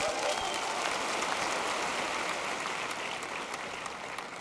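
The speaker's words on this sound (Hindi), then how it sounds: "दादी की गेम के लिए तालियां हो जाए" Dense, steady applause from an awards-show audience fills the whole stretch, loud and sustained without a break, with faint speech-like traces mixed into the crowd noise.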